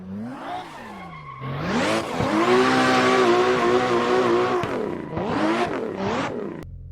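A drifting car in the racing game Assetto Corsa, its engine revving up and down in long, loud sweeps as the throttle is flipped through the slide, ending in two sharp rev spikes and a sudden cutoff.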